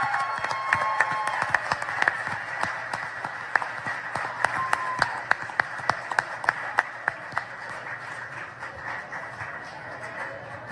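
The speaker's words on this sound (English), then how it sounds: "can we hear a round of applause for Donald Trump Jr." A crowd applauds Donald Trump Jr. at an outdoor symposium by the border wall: dense, steady clapping with sharp individual claps standing out, sustained for about eleven seconds.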